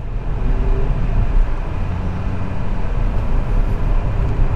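A 2020 Hyundai Grand i10 Nios with a 1.2-litre petrol engine drones steadily from inside the cabin, a loud continuous low hum with road rumble and no clear rise or fall.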